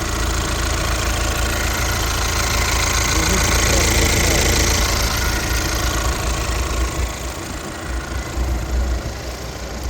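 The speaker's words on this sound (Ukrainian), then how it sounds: "двигунчик працює ідеально" A 2020 Volkswagen Crafter van engine idles, a loud, steady mid-pitched running rumble with a faint knocking texture, heard up close and continuous throughout with no talking.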